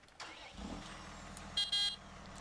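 A tractor engine in Farming Simulator 17 cranks and catches, settling into a steady low idle rumble with a couple of brief louder bursts near the end.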